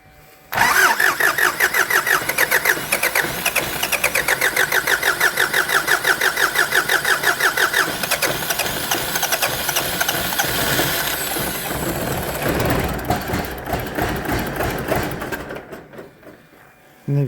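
A tractor engine, just back from a fuel pump repair, cranks and catches, then runs loud and close at a rough, steady idle for over ten seconds before cutting off abruptly.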